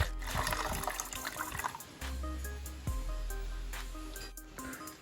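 Hot water from a homemade instant water heater runs in a steady, continuous gush with some gurgling surges, fairly close and moderately loud, with no talk over it.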